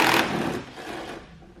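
A nut being loosened off a stud on a Pontiac Solstice, a short grinding, scraping creak that starts loud and fades over a second or so.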